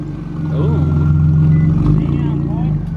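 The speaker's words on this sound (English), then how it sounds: "All right, no more revving." A BMW E46 engine revs up and holds a loud, rough drone, its pitch sweeping up and settling back while a voice talks over it nearby.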